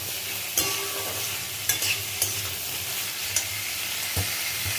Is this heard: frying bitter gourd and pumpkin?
yes